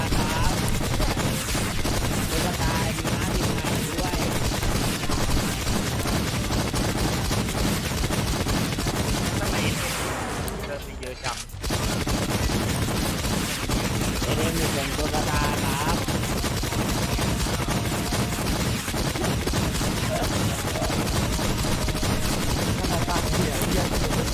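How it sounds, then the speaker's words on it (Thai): Rapid gunfire in the online shooter Warz, dense bursts of automatic shots crackling almost nonstop and close, with a brief lull midway, and voices talking over the firing. "ยิงรัวกันไปก็ยิงรัวเกินไป"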